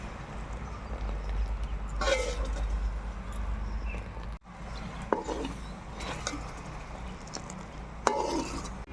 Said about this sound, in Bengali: আমি এখন ঘন ঘন নেড়ে নেব